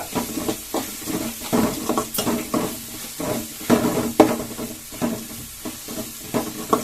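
Spiced potato filling for aloo kachori being stirred and fried in a pan with onions and masala, a steady sizzle broken by repeated scraping strokes of the spoon at an even, unhurried rhythm.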